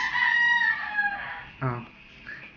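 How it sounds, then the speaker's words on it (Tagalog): A rooster crows nearby in a long drawn-out call, followed by a shorter squawk and a faint trailing note. "May manok sa likod."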